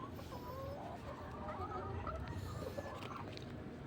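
Labuyo red junglefowl crossbreed hen clucking softly on a farm, short low clucks repeating irregularly over a noisy outdoor background.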